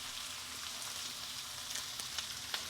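Onion and curry leaves fry in hot oil with a steady, faint hiss and a few small crackles, continuous throughout, with no voices.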